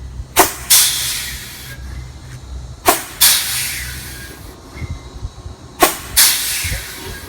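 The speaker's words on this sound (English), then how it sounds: "you can apply and release independent trailer brakes, and hear if the brakes on the trailer are working" Air brakes on a truck's trailer are applied and released during tractor-trailer coupling, giving three sharp, loud hissing bursts of air spaced a few seconds apart, each followed by a fading hiss over a low idling rumble.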